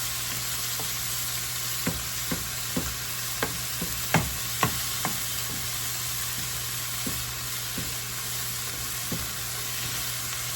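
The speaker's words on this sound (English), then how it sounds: "you want to break that ground beef, break it down" Ground beef frying and being broken up in a pan, a steady broad sizzle with a series of sharp utensil scrapes and taps scattered through it, close and fairly loud.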